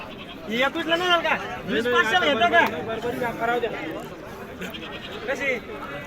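Goats bleat repeatedly at a busy rural goat and sheep market, with wavering calls from several animals close by over crowd chatter.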